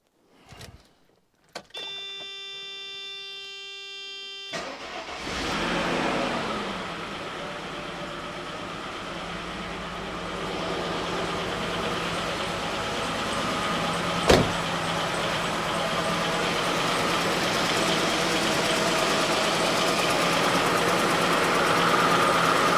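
A 1995 Mercedes E-Class engine with a misfire cranks briefly with a whirring starter, catches, and settles into a steady, slightly uneven idle close by, with no talk over it.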